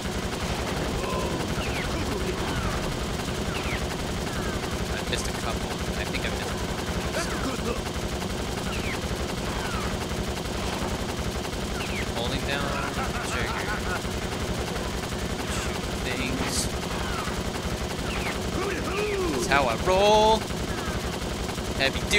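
Gun fire in the kart racing game Crash Tag Team Racing, a continuous rattling barrage under steady engine and game noise, with a voice talking over it.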